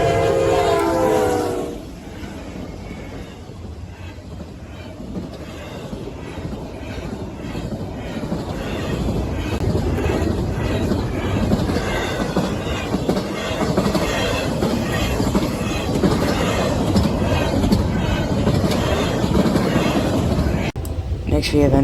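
A CSX AC44 locomotive leads a long freight train past at close range, a steady loud rumble of wheels and cars rolling by, with brief squeals and a short horn note near the start.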